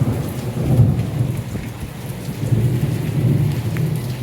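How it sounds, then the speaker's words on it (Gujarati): Heavy rain pours down in a thunderstorm with hail in Bagasara, a dense, continuous roar with low thunder rumbling underneath throughout. "ખૂબ સારો વરસાદ થઈ રહ્યો છે"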